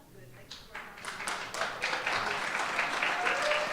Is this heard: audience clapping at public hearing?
yes